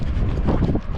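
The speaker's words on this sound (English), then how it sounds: "It's windy" Strong wind buffets the microphone in a steady, loud rumble with gusty surges throughout, no voices heard.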